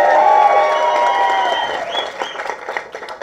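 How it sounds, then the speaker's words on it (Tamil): An audience at a comedy speech event applauds under a sustained musical tone, with scattered clapping and crowd noise that trail off toward the end. "எங்கே ஒரு தடவை நல்லா கைத்தட்டுங்க,"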